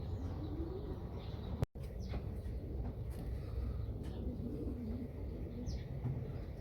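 Racing pigeons coo softly and repeatedly over steady background noise, with occasional faint chirps and one abrupt dropout.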